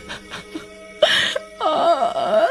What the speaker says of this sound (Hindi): उस औरत के रोने की आवाजें आने लगती हैं